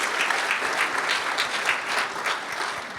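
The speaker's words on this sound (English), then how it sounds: "So a round of applause again for Ron and Hannah Evans" Audience applauding at a scholarship donor appreciation evening for a hospital foundation, dense steady clapping from a sizable room, sustained throughout with a faint murmur of crowd beneath.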